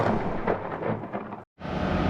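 Thunder from a nighttime lightning storm in Kochi, India, rolls as a loud, steady rumble with rain-like hiss, then drops out briefly before resuming.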